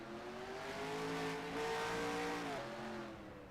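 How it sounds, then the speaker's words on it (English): A stock car engine in the NASCAR Racing 2003 simulation at a Texas road course holds a steady, droning whine at high revs, pitch rising slightly and then dipping once, faint and without talk. "Lots of fuel going into that engine."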